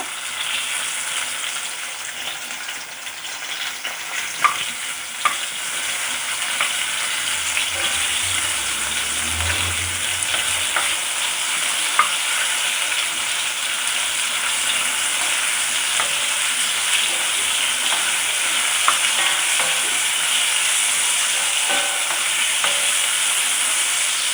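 Ingredients sauté lightly in a pan for Mappillai Samba rice idli, a steady soft sizzle running throughout, with a faint low rumble near the middle and a few small clinks from stirring.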